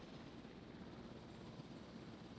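A helicopter in a dinosaur park video game gives off a steady, low droning rotor and engine rumble that is fairly faint and unbroken throughout, with no talking.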